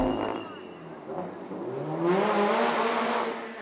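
Rally car on a fresh set of MRF tyres running a forest stage, engine note rising and sweeping through gears as it approaches and passes, with a broad burst of gravel and road noise toward the end.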